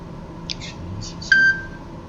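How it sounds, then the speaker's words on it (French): A mobile phone chimes for an incoming text message: a few short, bright notification tones close by, ending in a sustained beep, over a quiet low background. "Ça, c'est mon téléphone qui vient de sonner,"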